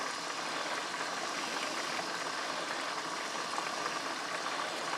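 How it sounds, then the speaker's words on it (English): A pot of seafood fettuccine with mussels bubbling at a steady boil, a dense, even hiss of rolling water with no voices over it. "Everything's boiling, bubbling here"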